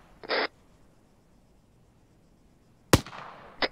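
Gunfire in the military shooter ArmA 3 during a squad training session: a sharp single shot with a short echoing tail, a quieter crack just after, and a brief muffled burst earlier.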